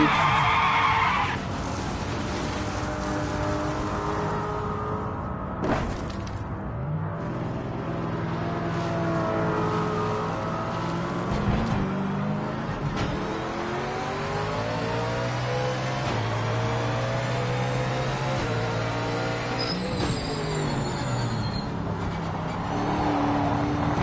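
A racing car in Project Motor Racing, team Mustang, screeches and skids as its engine revs rise and fall, loud and continuous through the run with tyre squeal over a droning motor.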